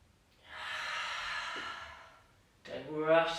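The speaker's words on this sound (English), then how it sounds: "Don't rush those breaths." A person in a live yoga class breathes out slowly and audibly, a soft sustained exhale followed by a sharper, louder inhale near the end.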